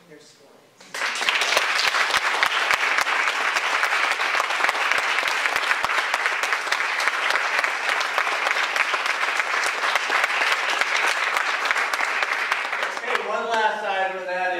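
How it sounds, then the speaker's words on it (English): Sustained audience applause after a round is called for everyone who shared their stories, starting abruptly and holding steady and loud for over ten seconds before a voice begins over the tail. "So I would love us to have a round of applause for everyone who so generously shared their stories."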